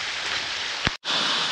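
Dense, steady rushing water fills the air like a nearby waterfall, briefly interrupted by a short thump and a moment of near silence.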